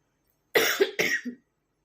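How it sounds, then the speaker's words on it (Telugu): Two or three rough coughs in a quick burst, close and fairly loud, then silence. "దగ్గు వచ్చేస్తుంది బాగా"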